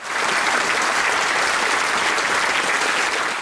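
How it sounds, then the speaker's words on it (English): A loud, dense roar of applause fills the House of Commons chamber, continuous and even from start to finish with no talk over it. "Most unusual too was the roar of applause."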